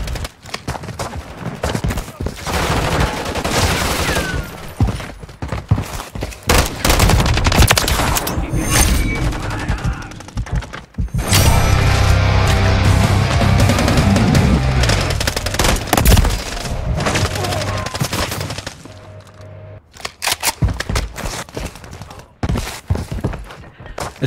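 Gunfire in the video game Modern Warfare 3, in its war mode: rapid bursts of automatic weapon fire and scattered single shots, loud and close, continuing for the whole stretch with dense battle noise between the volleys.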